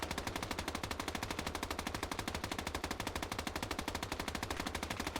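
Sustained machine gun fire in the World War II game Call to Arms Ostfront, a rapid, unbroken stream of evenly spaced shots, loud and close, with no talking over it.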